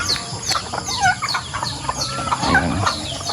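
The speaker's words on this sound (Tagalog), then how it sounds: "papasok na ibang manok" Several chickens cluck close by on a small backyard farm under coconut trees, giving overlapping clucks and squawks continuously throughout.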